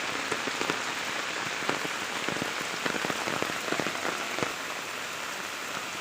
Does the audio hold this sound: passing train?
no